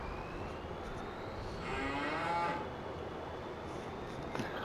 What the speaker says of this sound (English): Little cows in the background.